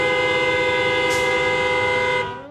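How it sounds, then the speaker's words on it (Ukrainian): A long, steady car horn blast sounds close by on a city street in Donetsk, holding one sustained tone for about two seconds before cutting off and fading. "Уже годину в усьому місті сигналять автівки."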